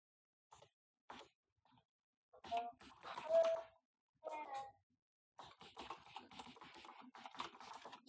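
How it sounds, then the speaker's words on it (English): Typing on a computer keyboard in short bursts of quiet clicks, close by, broken up by someone talking. "Who you typing to?"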